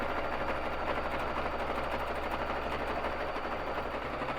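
A BabyLock Jazz sewing machine free-motion quilting on a quilting frame, a continuous rapid mechanical rattle at steady loudness throughout, with no voices.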